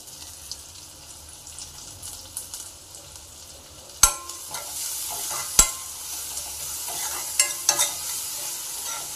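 Onion fries in a pan with ginger and garlic for a vegetable soup, giving a steady hiss that grows louder, marked by a few sharp clacks from a stirring spoon.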